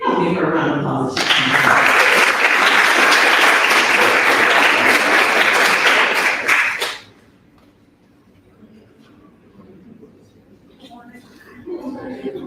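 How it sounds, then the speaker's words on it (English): An audience at a community forum gives a burst of loud, sustained applause lasting about six seconds, then it cuts off sharply to quiet room tone before a speaker talks again. "Give her a round of applause."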